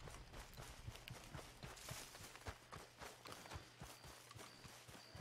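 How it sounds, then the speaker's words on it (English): Horse hooves clip-clop in the Red Dead Redemption 2 video game, a steady run of light, close hoof strikes over a low ambient hum. "I guess I gotta get my horse first."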